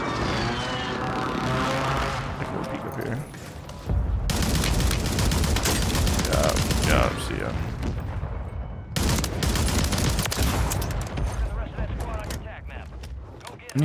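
Gunfire in Call of Duty Warzone on Rebirth Island: dense, loud bursts of automatic weapon fire in long sustained stretches with short pauses between, under occasional talk.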